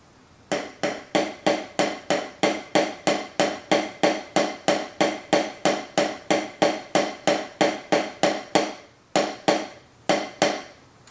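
Crisp, evenly spaced diddle taps on a drum practice pad, fast and steady for about nine seconds, then a brief pause and a few final strokes, no voices.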